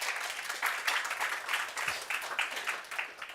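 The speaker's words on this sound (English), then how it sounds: "Please, an applause for them." Audience at a women's chess conference gives a round of applause for the technical team: steady, fairly soft clapping from a hall full of people, somewhat distant and unbroken.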